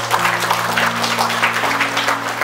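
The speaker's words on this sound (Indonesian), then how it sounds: "Kita beri aplaus untuk Tuhan." A church audience claps steadily throughout a sermon, a dense continuous patter of applause with a faint sustained tone underneath.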